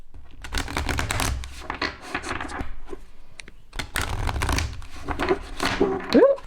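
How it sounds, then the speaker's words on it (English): Oracle cards from a European Goddesses and Spirits Oracle deck are riffle shuffled close up, producing a rapid fluttering purr in repeated bursts with brief pauses between them. "And then the riffle shuffle"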